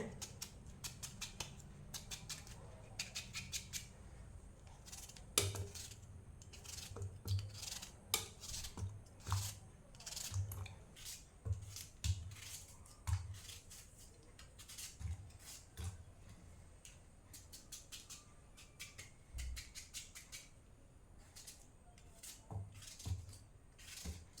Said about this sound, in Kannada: ನೋಡಿ ಇನ್ನಿದನ್ನು ದೊಡ್ಡ ದೊಡ್ಡ ಪೀಸಾಗಿ ಮಾಡಬೇಕು ಎಲ್ಲವನ್ನು ಅದೇ ರೀತಿ ಕಟ್ ಮಾಡ್ತೇನೆ